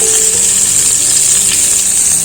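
Eggplant frying in a pan, a loud, close, continuous hiss of sizzling oil that holds steady without pause.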